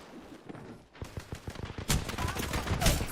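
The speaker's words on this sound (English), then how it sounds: "I'm getting shot." Video game gunfire erupts in rapid bursts, scattered single shots at first, then dense automatic fire growing louder and overlapping, with faint voices in the background.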